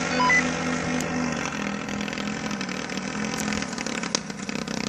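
A homemade Eggmotor paramotor engine running steadily, a continuous buzzing small-engine drone with a constant pitch heard close and fairly loud throughout.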